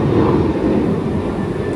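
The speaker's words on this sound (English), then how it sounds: "You can hear the planes flying over us." Airplanes roar overhead near a large airport, a loud continuous broadband rumble that fills the whole short stretch without break, heard from outdoors.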